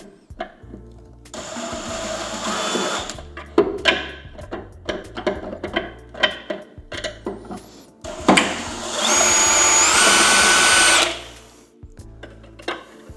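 A long screwdriver works screws out of a Sony ULT Tower10 speaker during a teardown: close rattling clicks and knocks, then a sustained whirring burst of about three seconds, followed by more light taps.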